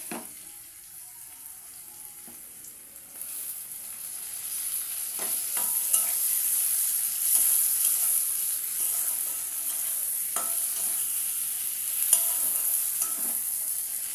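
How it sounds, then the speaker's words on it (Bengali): Vegetables and tomato fry in a pan with loud, steady high-pitched sizzling, broken by repeated scraping stirs of a spatula, with the frying growing louder partway through. "তো দেখো সবজিটা আমার লাল করে ভাজা হয়ে গেছে। এর মধ্যে আমি টমেটোটা দিয়ে দেবো।"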